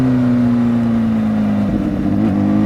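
A motorcycle engine revs up for a wheelie on a road, a loud, close, sustained drone whose pitch holds steady, dips, then climbs again.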